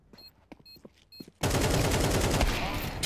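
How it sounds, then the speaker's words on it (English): Rapid, sustained gunfire from an arcade shooting game breaks out loud and dense after a quieter stretch of short game blips and clicks. "I was shooting you in the face"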